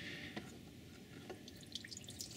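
Coolant from a 2.0 TDI Audi/VW engine drips out as the water pump is partly pulled from the block, a quiet scattered dripping and trickling close by.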